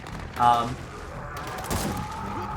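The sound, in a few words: Boltok revolver pistol shots in Gears 4 video game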